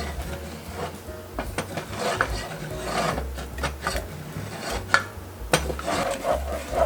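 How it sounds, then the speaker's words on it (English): A wooden spoon scraping and rubbing across the bottom of a pot while a boba lava cake mixture is stirred, irregular rasping strokes with occasional sharper knocks, close up and without speech. "Take this wooden spoon, it's the closest thing I have available, and just kind of start scraping the bottom"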